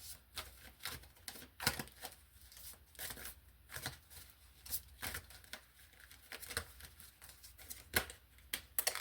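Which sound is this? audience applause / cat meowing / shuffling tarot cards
shuffling tarot cards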